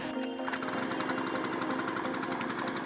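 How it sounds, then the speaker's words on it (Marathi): A small hydraulic power pack generator belonging to a fire department runs steadily and close by, a dense mechanical rattle and hum that drives hydraulic cutters, spreaders and jacks, with no speech over it. "छोटा जनरेटर आहे जो हायड्रोलिक पॉवर जनरेट करतो"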